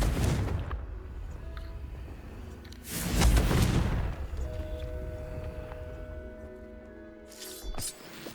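Spell explosions from the Confringo fire spell in the Hogwarts Legacy video game, a booming blast swelling midway through with rumbling low noise and a ringing tonal tail afterward.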